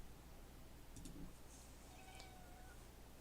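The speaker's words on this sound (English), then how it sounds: "That was my cat." A pet cat meows briefly in a quiet room, a couple of short faint calls heard far off under low background hum during a live weather stream.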